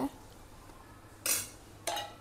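A metal spoon stirs palm-sap kanji in a cooking pot, giving two distinct clinks against the pot's side over a low, steady kitchen hum.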